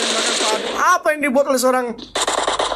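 Rapid bursts of M762 rifle fire in PUBG Mobile during an esports match, sharp rattling shots under loud excited commentary, with a short pause before firing resumes.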